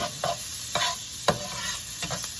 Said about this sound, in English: here we're using a non-stick pan, and we're just getting the sausage cooked.